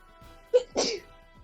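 A single sneeze during a casual play session, a quick sharp intake followed by a burst of breathy noise, close and moderately loud against a quiet background.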